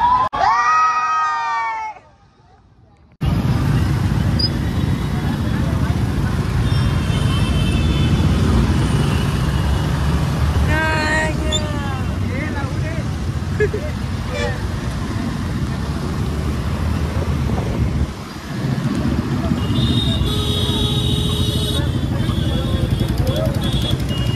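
A vehicle drives along a road during a Dahi Handi festival, giving a loud steady rumble of engine and road noise, with crowd noise and shouting around it after a brief drop at the start.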